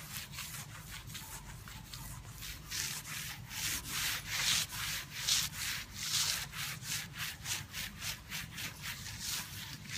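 A clay decontamination cloth rubs across car paint in rhythmic back-and-forth strokes, a close, soft hissing friction that swells and fades with each pass, with no talking.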